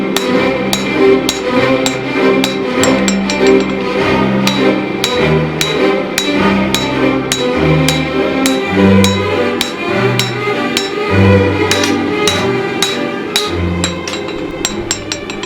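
Steel falchion blade being bevelled by hand with a hammer, a long steady series of sharp ringing blows struck at a brisk, fairly even rhythm, loud and close, with metallic clink on each strike.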